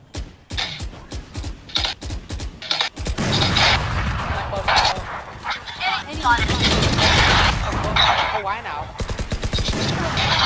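Rapid bursts of gunfire from the video game Valorant crackle through a match in quick volleys and sharp single shots, with excited players talking over the shooting.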